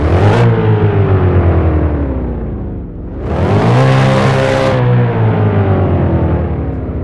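Car engine in a driving video game with Porsche and Mercedes cars, a loud steady synthetic hum that rises and falls in pitch, dips briefly mid-way, then climbs again as if revving, with no talk.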